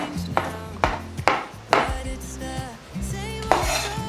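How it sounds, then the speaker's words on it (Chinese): A kitchen knife dices soaked, softened shiitake mushrooms on a board, a brisk series of close, crisp chops in an uneven rhythm with a soft rub between strikes, and no talking. "换一个方向，切小碎丁。"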